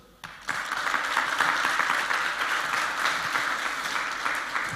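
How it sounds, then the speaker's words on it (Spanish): An audience at a Christian leaders' congress in Chile breaks into sustained, loud applause that starts abruptly and holds steady as a dense wash of clapping from many hands. "Vamos a dar aplausos."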